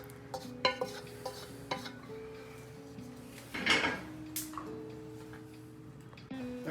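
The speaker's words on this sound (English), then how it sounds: "Now we're going to add that to our 5 cups of cornbread that we just happen to have" Softened vegetables are scraped into a bowl of cornbread for Cajun cornbread dressing, with a spoon clinking and stirring in short, irregular knocks and scrapes, close and fairly quiet, with no voices.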